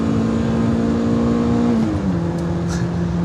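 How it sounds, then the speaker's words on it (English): A BMW E30 M3 Sport Evo's racing-bred straight engine pulls hard, its loud steady drone rising in pitch, then dropping briefly at an upshift before climbing again, close and continuous with no talk. "the M3 was made to go racing, of course, and none more so than the Sport Evo, and this engine just pulls and pulls and pulls and pulls"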